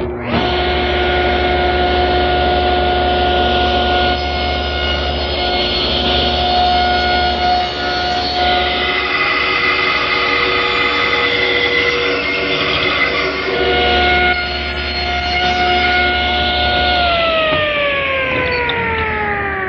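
A power saw making shoulder cuts for a wooden tenon on a Windsor chair part. A steady, loud motor whine with ringing tones runs throughout and winds down near the end, with no talk.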